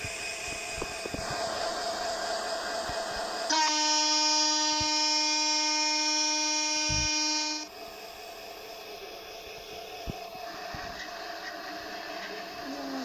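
A train in the Train Bangladesh video game rumbles steadily, then sounds one long, loud, sustained horn blast of about four seconds before the engine drone resumes.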